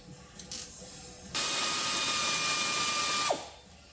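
A ratchet tool spins out caliper bracket bolts on the front brakes of a Buick Verano in a single steady whirring burst of about two seconds, heard up close before it winds down, with no talking.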